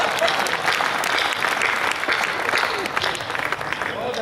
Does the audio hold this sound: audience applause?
yes